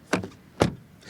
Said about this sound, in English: the rich door closing sound